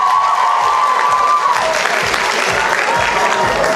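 A school freshmen's ball audience applauds the first dancing couple, loud clapping building over a fading tone, with some cheering and voices mixed in.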